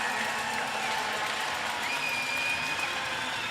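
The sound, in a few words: crowd cheering at a sports game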